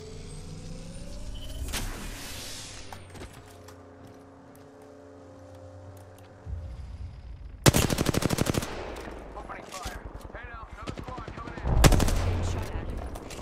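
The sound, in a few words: gunfire in a video game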